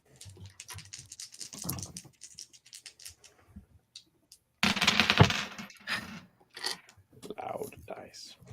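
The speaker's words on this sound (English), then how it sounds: "Loud dice." Dice rolled on a table during a gothic horror tabletop game session, a loud clattering burst of tumbling and bouncing hits that stands out clearly between stretches of nearby talk.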